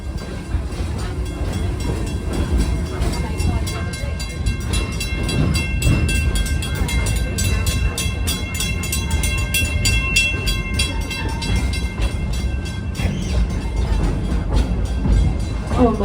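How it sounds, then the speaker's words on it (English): Steady rumble of the Busch Gardens Tampa Bay park train rolling along rails near Congo station, with clacking wheels and a high metallic squeal running throughout, loud and close. "we are approaching the Congo train station"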